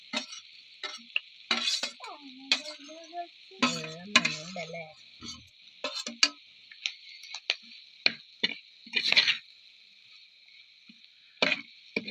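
Grated coconut is stirred into a frying tender jackfruit and meat dish, heard as a steady hiss with scattered light clicks and scrapes of a utensil, with a voice speaking at times.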